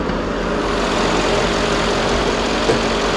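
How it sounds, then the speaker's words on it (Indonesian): A Mercedes-AMG 5.5-litre V8 sedan engine idles with a steady, dense broadband rumble, close and continuous for a few seconds with no talking. "ini dia mesin buatan AMG V8 5500 cc"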